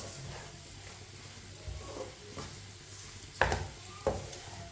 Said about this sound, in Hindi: इसे चम्मच चलाते हुए पकाना है।